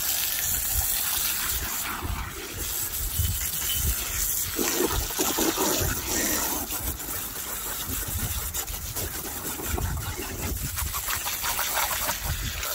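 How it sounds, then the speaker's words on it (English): A heavy stream of water gushes and splashes continuously while rinsing acid-treated Andamooka matrix opal, a steady loud rushing wash with a low rumbling hum underneath. "we'll go ahead and just rinse it all off with a good proper heavy dose of water"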